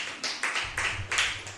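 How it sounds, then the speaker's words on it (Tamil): An audience at a Tamil storytelling talk gives a short burst of sharp, close hand claps, about seven in quick, slightly uneven succession, sounding like a small group rather than a large crowd. "இவ்வளோ நல்ல கைத்தட்டலாம்."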